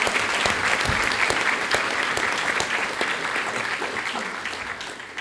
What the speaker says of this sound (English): Can we give them a round of applause for their service?